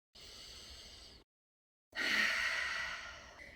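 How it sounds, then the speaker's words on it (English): Deep breath in and out during a guided full moon meditation circle, a steady inhale lasting about a second, a brief pause, then a louder, longer breathy exhale, close and with no talk. "Let's take a deep breath."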